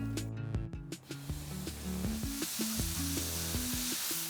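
Cooking oil sizzling as it heats in a pan, a steady hiss running throughout under melodic background music.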